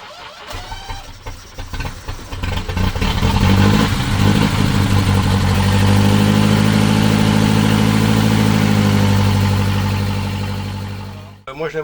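A 1924 FIAT Spinto Monza engine cranks and fires, then settles into a loud, steady, rumbling idle close by before cutting off abruptly at the end; a voice may be faintly present.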